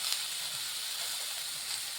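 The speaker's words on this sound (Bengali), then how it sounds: "আর একটু আলুটাকে একটু ভেজে নিচ্ছি।" Potato being fried in a pan as filling for stuffed ridge gourd, a soft continuous sizzle and hiss held steady and fairly quiet at close range, with no talk.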